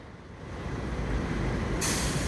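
A Jetbus 3 double-decker bus rumbles close by with a steady low engine drone, ending in a sharp, bright hiss like an air brake release.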